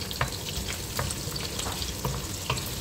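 Garlic fries in a pan while being stirred, a dense continuous sizzle with repeated short scraping taps of the utensil, close and steady throughout with no talking.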